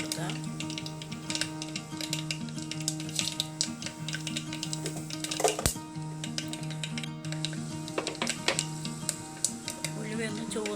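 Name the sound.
mustard seeds crackling and fenugreek frying in hot coconut oil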